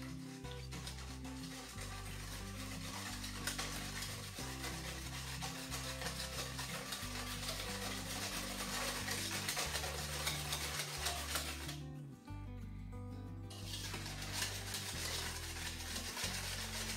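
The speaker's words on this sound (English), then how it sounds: "And then I'm gonna mix this up" Spices, sugar and salt stirred into a banana nut bread pudding mixture, a steady scraping, rubbing swish of a utensil working through a bowl, continuous with a short pause near the end.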